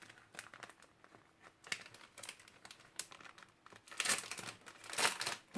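Crinkling and crackling of packaging as a contest prize parcel of paper-craft supplies is opened, in irregular bursts that grow louder and denser toward the end.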